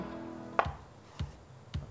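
Potatoes are halved with a kitchen knife on a cutting board, giving three close, distinct chopping thuds at steady intervals, the first sharper than the rest, with no speech.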